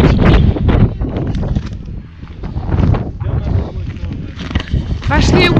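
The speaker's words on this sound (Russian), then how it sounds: "Кстати, тут ветер прям очень сильный." Strong, gusty wind beside a huge cliff in Bashkiria buffets the microphone with a rough, surging roar, and voices can be heard over it.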